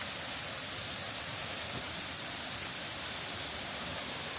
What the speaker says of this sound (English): a waterfall right there